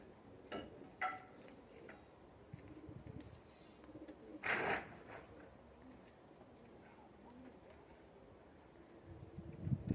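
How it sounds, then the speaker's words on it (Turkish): Birds in a coop give soft, faint pigeon-like coos and rustles, a few scattered calls over a quiet background. "Bunlar İdris Aga'nın kuşları"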